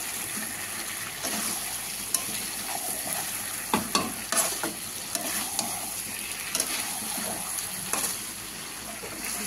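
Mustard paste chicken sautéing in a pan, a steady close sizzle with repeated scraping stir strokes of the spoon against the pan throughout.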